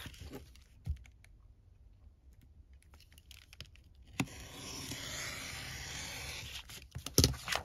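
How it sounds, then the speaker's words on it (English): Vintage envelope paper is cut while making a junk journal. Quiet rustles and small clicks are followed by a longer, close, papery cutting and rasping sound lasting a few seconds, with no voices. "I'm going to cut this off."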